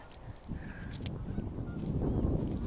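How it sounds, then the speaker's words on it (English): Geese honk faintly in the distance over a low rumbling wind or traffic background, a few scattered calls rather than a steady chorus. "so look some geese hello geese"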